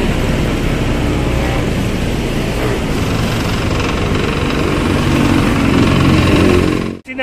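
Continuous loud machinery rumble at an active construction site for Phase 1 of the Metro Manila Subway at North Avenue Station, steady engine drone with rattling mechanical texture throughout, cut off by a brief dropout near the end.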